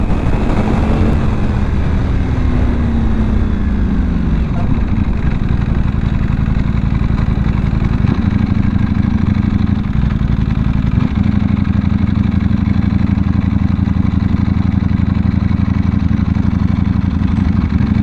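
A Ducati V4S motorcycle running flat out near 320 km/h gives a loud, continuous engine and wind roar that holds steady, recorded close from the bike itself.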